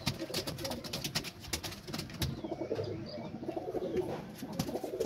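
A male Sobji racer pigeon coos softly in a small pigeon loft with other pigeons nearby. The low, faint calls repeat over a quiet background.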